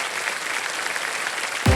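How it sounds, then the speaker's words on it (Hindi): A studio audience claps on a televised Hindi quiz show. The applause is a dense, steady wash of many hands, moderately loud throughout, with a brief thump near the end. "एक बार जोरदार तालियां हो जाएं"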